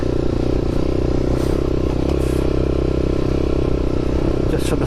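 A Kawasaki KLX250SF motorcycle being ridden, its engine droning loud and steady with a low, even rumble and rattling clatter, faint wind noise and occasional talk over the top.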